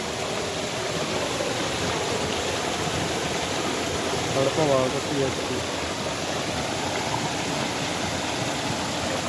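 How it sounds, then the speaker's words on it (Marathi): A small waterfall and flowing stream pour among large old boulders on a hillside in the Konkan at night, making a steady, even rush throughout, with a person speaking briefly over it. "एक बारीकसो धबधबो पण स्पॉट झालो आहे"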